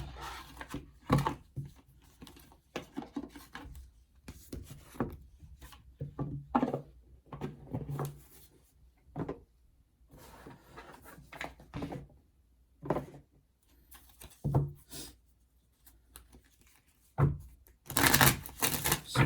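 Oracle cards are shuffled and handled up close in a quiet room, with irregular soft riffles, taps and clicks scattered over twenty seconds and a louder flurry of shuffling near the end.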